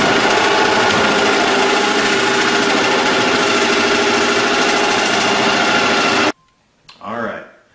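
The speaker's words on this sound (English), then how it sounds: "So you just take the jigsaw and just slowly" Jigsaw cutting through ABS plastic sheet for crafting armour, a loud, close, steady buzzing whine for about six seconds that stops abruptly, followed by a short spoken remark.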